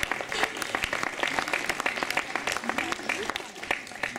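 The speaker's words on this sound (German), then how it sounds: "Herzlichen Glückwunsch und nochmal einen tosenden Applaus" Applause at the Beste Bio-Läden 2016 award ceremony at BioFach in Nürnberg: sharp individual claps stand out within a sustained crowd ovation, with speech mixed in.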